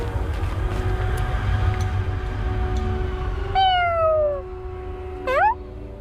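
Two drawn-out, rising-then-falling cat meows from the video game Dune Abyss, the second shorter and higher, ring clearly over a steady low ambient hum and background music.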